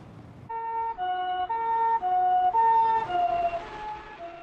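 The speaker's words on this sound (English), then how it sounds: "when you hear that sound of an ambulance" An ambulance siren wails in a steady two-tone pattern, alternating high and low notes, fairly loud and clear with no voices.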